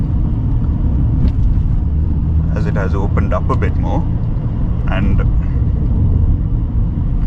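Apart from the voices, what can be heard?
BMW F10 5 Series car driving at 70 km/h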